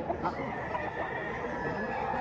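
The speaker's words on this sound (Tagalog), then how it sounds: "Gwapong manok." Rooster crowing at a busy chicken market in Padre Garcia, Batangas, its call rising over a steady wash of crowd and livestock noise.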